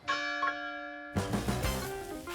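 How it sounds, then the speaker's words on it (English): Church bells ring with long, sustained tones, joined by a busier, clanging peal partway through, loud and resonant. "Listen, can you hear it? That might be the bells of Flavortown Church."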